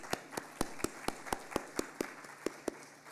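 Crisp, evenly spaced claps ring out at a brisk, regular pace at a graduate student orientation. They sound faint and fairly distant, like a few hands in a large room.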